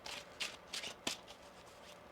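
A deck of tarot cards being shuffled during a reading, giving a quiet series of soft, papery riffling bursts in an uneven rhythm, heard close and alone.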